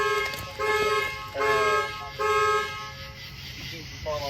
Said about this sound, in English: Was that you that just turned on the alarm?